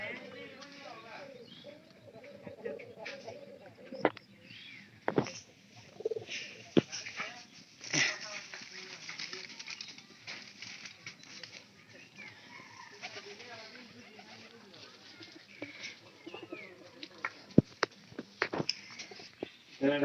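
Pigeons coo softly while being fed maize, with low repeated cooing, occasional wing flaps and pecking taps, and people talking quietly nearby.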